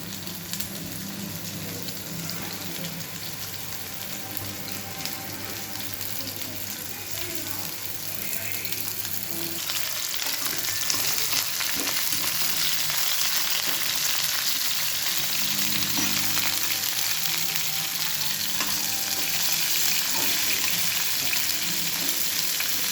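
Sliced bitter gourd frying in hot oil in a pan, a steady dense sizzle that grows louder about halfway through and keeps going, with a few faint clinks of stirring and no talking.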